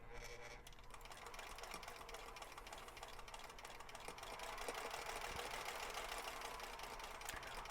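Steady, fairly quiet whirring of a sewing machine running continuously while it stitches a seam on a large quilt block, swelling slightly toward the end.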